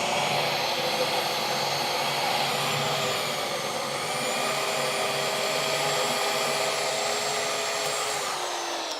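Steady high-pitched whine of a drill boring a pilot hole through metal on a crew-cab Charger body, running continuously at close range with a constant tone that sags slightly near the end.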